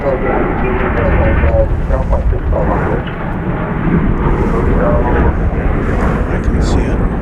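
An American Airlines Boeing 777-300ER jet at DFW airport fills the air with a loud, steady broadband engine roar that lasts throughout, while voices talk underneath.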